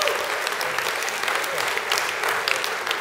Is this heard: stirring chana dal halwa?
no